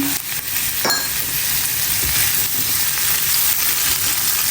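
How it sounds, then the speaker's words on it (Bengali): Fenugreek greens frying in a pan with shrimp, chopped onion and a little salt, a steady close sizzle throughout with a brief clink of a utensil near the start. "তো এই জন্যই চিংড়ি মাছ দিয়ে ভাজছি"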